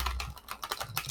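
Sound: tarot cards being shuffled

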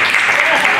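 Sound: audience applause

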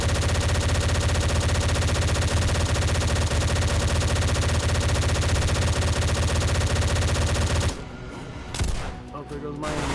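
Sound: gunfire in the video game DayZ

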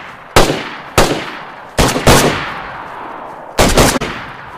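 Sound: gunshots in the video game DayZ

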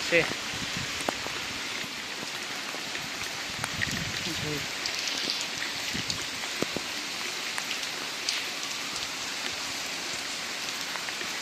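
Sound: heavy rain falling

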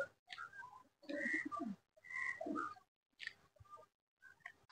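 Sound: pigeons flying and cooing

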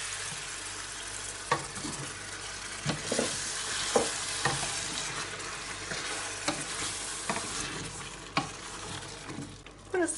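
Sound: water added to leek and squash cooking in a pan

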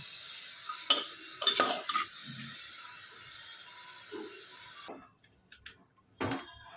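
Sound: vegetables and chicken lightly frying with salt while stirred

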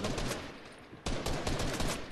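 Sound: automatic gunfire in a video game

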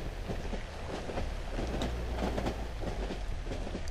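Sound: moving train in video game Cry of Fear

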